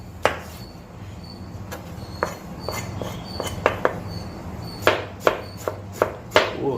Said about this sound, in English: Oh, how nicely you're chopping.